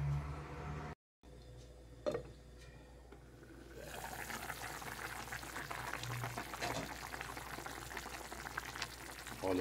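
A pot of vegetable stew simmers on the stove, a steady bubbling and hissing that starts soft, briefly drops out, then grows fuller and louder, with occasional clinks near the pot.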